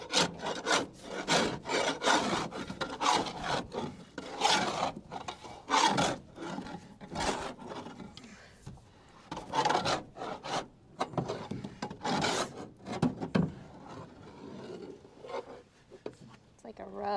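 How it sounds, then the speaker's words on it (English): Scraper dragging over the floor of a feed wagon to clear out wasted feed, a steady series of rough rasping strokes repeating about every second, close, with people talking throughout. "we bought this for scraping the floor of the barn, the concrete floor of the barn"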